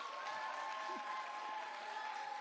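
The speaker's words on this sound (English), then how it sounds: "Round of applause for second grade." Audience applause at a school science fair awards for second graders, a steady wash of clapping from a crowd with a voice speaking over it.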